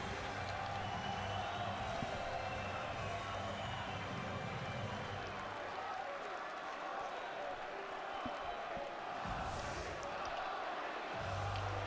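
An ice hockey arena crowd at the 2012 world championship gold medal final, Russia against Slovakia, cheers steadily as the tournament MVP receives his trophy, a broad, sustained roar with a commentator's voice over it.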